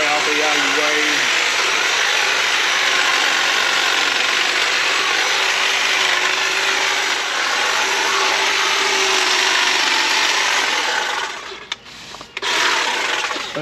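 A battery-powered hedge trimmer cutting through shrubs outdoors, a loud continuous buzzing whine with rattling blade chatter, close, holding steady for most of the stretch before briefly cutting out near the end.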